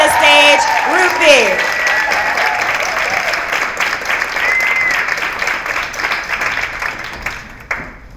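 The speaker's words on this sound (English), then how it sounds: "So I need a big round of applause, I need claps, I need cheers." A theatre audience bursts into loud applause and cheers to welcome the poet Rupi Kaur to the stage, with dense clapping and a few whoops that hold steady for several seconds before tapering slightly at the end.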